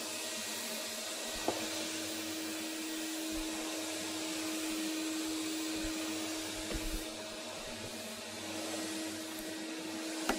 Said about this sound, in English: So let us vacuum this room